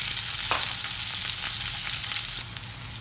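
Onions frying in a hot pan while pork ribs are being cooked, a loud continuous sizzle and spatter that drops slightly in intensity near the end.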